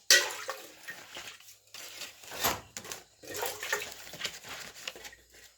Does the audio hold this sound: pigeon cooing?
no